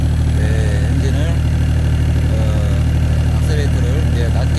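Agricultural excavator engine idling steadily while the machine is unloaded with its bucket stretched out to the ground, a continuous low mechanical rumble throughout, with faint talk over it.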